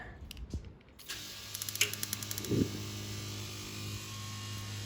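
A burst of rapid mechanical clicks from the igniter of a Camplux outdoor portable gas water heater, followed by a soft whoosh as the burner lights, over a steady low hum.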